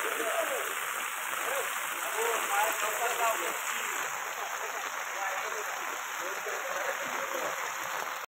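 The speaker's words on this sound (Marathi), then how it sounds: "पुन्हा एकदा पावसाने मजबूत अशी हजेरी लावली. जोरात पाऊस पडतोय." Heavy rain pours down steadily in a Konkan village near Pali, a dense, continuous hiss of drops on surfaces that holds at an even level from start to finish and cuts off abruptly at the end.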